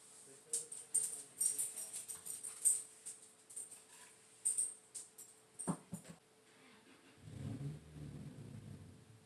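Neighborhood dogs bark in short bursts, some high-pitched and some yelping like whimpers, moderately close, with a low rumble of a passing car at the end.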